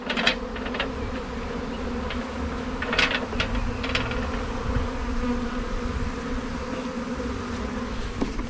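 Many bees from a swarm buzz steadily up close in a thick, humming drone, agitated, with a few sharp clicks and taps scattered through.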